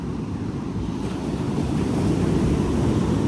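Surf breaking at the sea with steady wind buffeting the microphone, a dense continuous wash of water noise that grows slightly louder toward the end, no voices.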